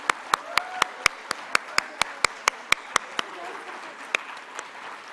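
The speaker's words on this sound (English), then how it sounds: "ladies and gentlemen, a very round of applause to all our colleagues." Sparse, sharp hand claps ring out at a conference's closing session, a single pair of hands beating a steady, fairly even rhythm before trailing off, with faint room noise behind.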